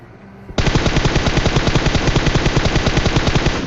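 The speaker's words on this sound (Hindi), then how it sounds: "दूसरी तरफ से भी फायर हो रहा था इन लोगों पे" Automatic gunfire in a mobile battle royale video game bursts in suddenly and keeps up as a loud, steady, fast rattle of shots with no talk over it.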